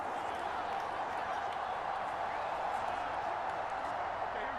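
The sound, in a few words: stadium crowd noise in a football video game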